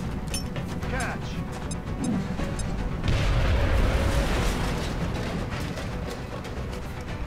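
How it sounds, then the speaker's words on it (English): A grenade goes off in XCOM: Enemy Unknown, giving a dense, rumbling blast and crashing debris over busy game noise, with someone talking faintly over sharp clicks and the sustained roar of the explosion. "I'm just going to grenade this one."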